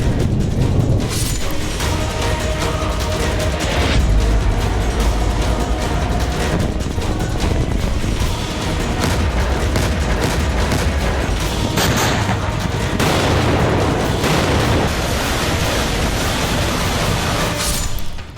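A long, loud, roaring blast rumble with bursts of crackling and booming, sustained for many seconds like heavy explosions and gunfire, from a reported nuclear explosion at a laboratory in Syria raising a huge dust cloud.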